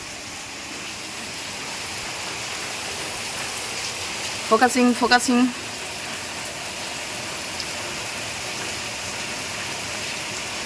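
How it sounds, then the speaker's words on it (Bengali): Heavy evening rain pours steadily around six o'clock, a dense unbroken hiss filling the whole stretch, with a brief burst of nearby talk in the middle. "দেখুন কি লেভেলে বৃষ্টি শুরু হলো"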